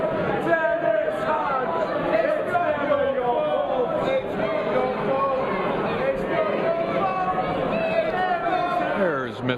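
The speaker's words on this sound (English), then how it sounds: "That's some of the American crowd" American spectators at the Mosconi Cup 2012 pool match chatter as a steady, dense crowd murmur that fills the whole stretch, with scattered voices rising and falling under continuous babble.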